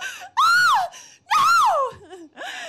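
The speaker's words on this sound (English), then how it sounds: "I practiced my screams for a very long time. You want to hear?" A woman lets out two long, loud, pitched screams, each rising and then falling, followed by a shorter third cry, all close to the microphone with brief silent gaps between them.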